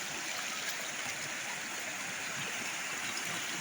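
Rainwater rushes steadily through a culvert bridge after heavy rain, a dense continuous roar of flowing water with no break, fairly close and unbroken by voices.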